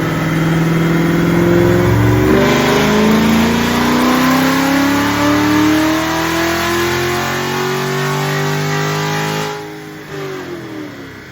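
A Camaro SS with an LT1 V8 and exhaust modifications revs hard on a dyno, its engine note rising steadily and loudly through a long pull before dropping off near the end.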